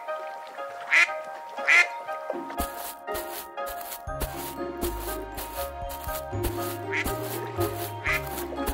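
A cartoon duck quacks twice in quick, loud bursts near the start and again near the end, with plucky animated-farm music and sound effects filling the middle.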